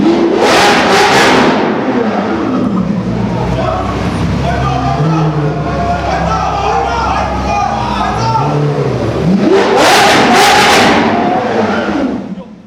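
Liberty Walk Nissan GT-R revving hard, with loud, close engine surges and sharp bursts at the start and the end, where the blow-off valve hisses between revs in a crowded supercar run setting.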